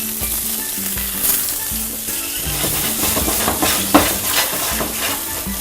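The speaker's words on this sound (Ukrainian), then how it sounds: "і підсмажуємо картоплю." Potatoes frying in hot oil in a pan, a loud, steady close-up sizzle with occasional stirring scrapes and a brief utensil clink.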